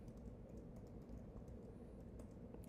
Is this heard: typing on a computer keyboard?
yes